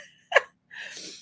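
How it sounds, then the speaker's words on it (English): A single sharp human sneeze bursts out, close and loud, followed after a short pause by a breathy exhale or sniff. "Now I'm going to sneeze."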